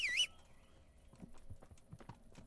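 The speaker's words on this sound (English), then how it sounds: "Horse!" Horse hooves clip-clop in the medieval role-playing game Kingdom Come: Deliverance, a steady run of soft, muffled footfalls at moderate distance after a brief bright tone at the start.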